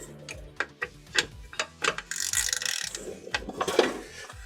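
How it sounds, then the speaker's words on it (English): A ratchet wrench turning a bolt in a home garage, sharp clicking strokes in short bursts with brief pauses, then a faster stretch of ratcheting, close and fairly loud. "ratchet time"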